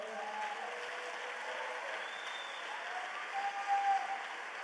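Congregation at a church service applauds in praise, a steady wash of clapping heard at a distance, with faint tones sounding beneath it.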